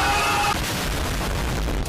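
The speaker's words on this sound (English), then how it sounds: "Secondary fire." Secondary fire from a blaster in Star Wars Battlefront 2 lands as a broad, booming burst that trails into a sustained noisy rumble, moderately loud with no talk over it.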